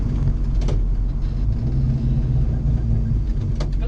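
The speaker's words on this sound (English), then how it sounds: "it's actually louder on the inside of the car than what it is on the outside" Loud, steady engine rumble and drone from inside a moving car with a stripped interior and no carpet, continuous throughout with a deep low hum.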